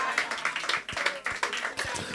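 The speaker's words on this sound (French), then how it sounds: "On peut applaudir à la gloire de Dieu." Church congregation clapping in a quick, uneven patter, many hands striking at once with a faint background murmur of voices.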